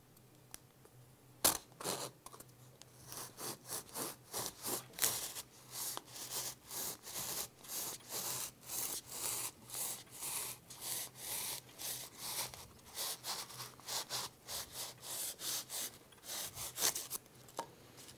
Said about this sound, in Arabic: نستخدم المنشار في هذا الجزء